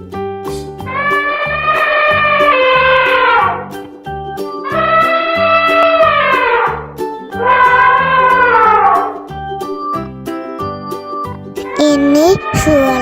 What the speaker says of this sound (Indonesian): Ini suara gajah.